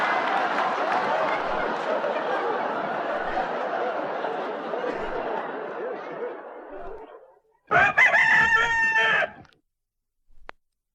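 A rooster crows once, a loud, brief, harmonic call that rises suddenly after a long stretch of audience laughter and applause at a live cabaret performance.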